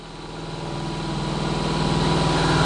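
A Verteq 1800-6 spin rinse dryer spins at 1200 RPM, a steady humming motor drone with a low rhythmic pulse that grows slightly louder throughout, with no talk.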